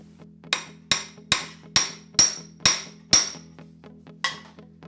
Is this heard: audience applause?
no